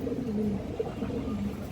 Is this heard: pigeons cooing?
yes